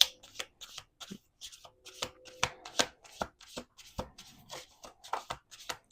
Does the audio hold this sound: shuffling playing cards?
yes